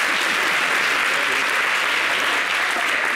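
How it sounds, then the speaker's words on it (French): An audience on a studio television show featuring a Zouglou group claps steadily, a dense, continuous wash of loud applause lasting a few seconds. "Merci d'applaudir encore."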